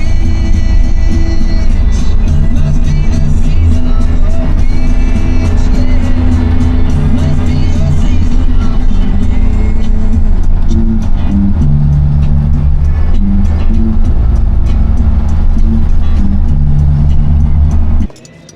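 Air-cooled Volkswagen with its stock transmission cruising on a freeway at 60 mph, a little over 2,500 rpm: a steady, loud low engine drone with road noise that holds evenly throughout and cuts off abruptly at the very end.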